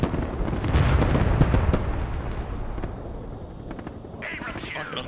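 Airstrike bomb explosions in the Broken Arrow war game, a heavy rumbling barrage of blasts that swells early and then fades, with voices talking over it.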